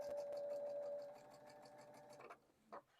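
A sewing machine stitches quilt segments across a seam, giving a close, rapid, even mechanical whir with a steady tone that slows and stops, followed by a faint click.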